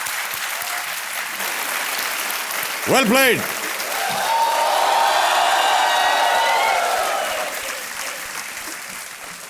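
A television game-show studio audience breaks into sustained applause after a correct answer, clapping swelling loudly in the middle and holding to the end, preceded by a brief sting and a short spoken remark.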